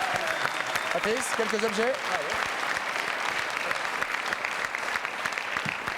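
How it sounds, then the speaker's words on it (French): A French TV studio audience applauds on a variety show, a continuous wash of clapping throughout while a host speaks briefly over it near the start. "applaudissements pour les seigneurs de mai"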